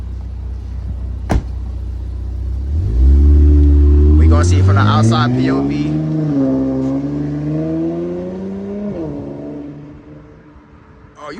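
An Infiniti Q50 fitted with cold air intakes revs and accelerates, its turbo engine swelling into a loud rising drone with whooshing, whistling turbo sounds. A sharp click comes first, and voices talk over the engine.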